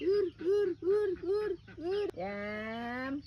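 A chicken clucks in five quick, close bursts, then lets out one long, drawn-out squawk, with a faint steady hum in the background.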